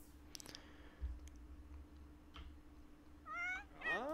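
A cat in the video game The Sims 4 meows twice near the end, rising drawn-out calls following a few soft clicks, over a faint steady hum.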